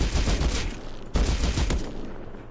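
Two close, bass-heavy body-shot gunshots in Rust PvP, a second apart, each a loud boom followed by a rumbling tail.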